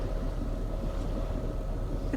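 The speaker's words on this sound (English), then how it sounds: "So yeah, we've had the engine running" A sailboat's engine drones at sea in the Arctic on the way to Svalbard. It makes a steady low rumble mixed with wind noise and water wash, constant and unbroken.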